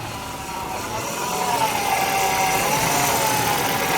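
A Ford Fiesta Mk6 engine idles while the steering wheel is turned, with air trapped in the power steering system. A steady mechanical hum grows slightly louder, carrying a faint wavering whine that rises and falls throughout.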